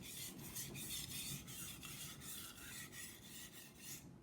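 A knife blade scrapes back and forth across a wet water stone in a quiet, steady, evenly paced series of close sharpening strokes, with no voices.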